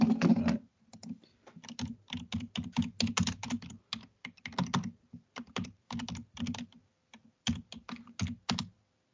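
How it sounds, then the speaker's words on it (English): Fast, heavy typing clatters on a computer keyboard, close by, in uneven bursts of sharp key strikes with brief pauses between runs. "Some real loud, powerful typing."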